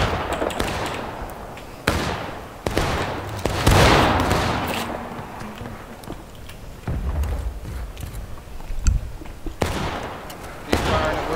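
Musket volleys from the Civil War game War of Rights pop in scattered, sharp reports, some close and loud, others distant, over a constant battlefield din.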